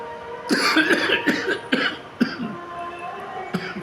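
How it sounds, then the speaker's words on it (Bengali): A run of harsh, repeated coughs, about six or seven bursts in close succession, loud and near, with no talking. "কাশি হচ্ছে"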